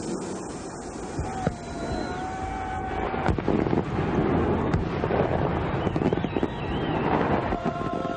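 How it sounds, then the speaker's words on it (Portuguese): Fireworks exploding in the distance, a continuous rumbling crackle with scattered sharp bangs and whistling streaks over wind noise, steady throughout. "Fogos de artifício."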